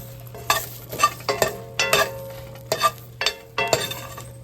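Diced green and red chili peppers fry in a skillet while being stirred, giving a low sizzle under a series of sharp utensil scrapes and clinks against the pan, close and alone.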